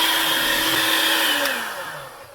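An electric hand mixer whirs steadily while beating cake batter made with buttermilk and flour, a close, smooth motor drone that drops slightly in pitch near the end.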